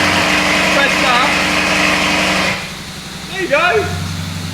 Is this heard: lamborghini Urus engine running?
yes